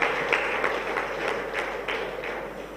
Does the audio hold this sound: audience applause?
yes